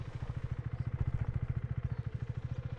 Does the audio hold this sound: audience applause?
no